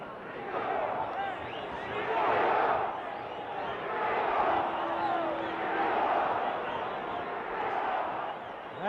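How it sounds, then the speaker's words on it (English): Large boxing crowd at the Muhammad Ali versus Oscar Bonavena fight chants rhythmically and steadily throughout, a dense arena roar swelling and easing in waves, with a commentator's voice faintly mixed in. "you hear the crowd picking up the chant for Ringo now"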